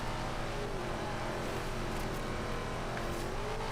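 A GT race car engine in a racing video game drones steadily and loudly close behind, a continuous high-revving roar with no talk over it.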